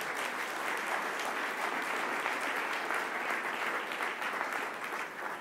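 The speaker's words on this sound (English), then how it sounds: "they deserve a round of applause" An audience at a mayors' panel applauds steadily, a dense, even clatter of clapping that holds for several seconds and then starts to taper off.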